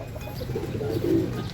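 Pigeons, checkered and blue bar birds, cooing in low soft murmurs near the loft, a couple of brief coos rising midway over a steady hum of background noise.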